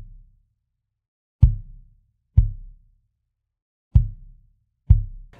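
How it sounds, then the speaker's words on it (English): Acoustic kick drum from a GarageBand iOS drum kit in a bedroom pop beat, four deep, punchy thumps with short decays, played alone at an uneven spacing. "The kick is from the same drum kit and it sounds like this."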